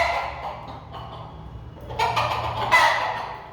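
A flock of chickens and roosters on a farm clucks and squawks while pecking at brown rice. The busy, scratchy clucking stays close and grows louder and denser toward the end.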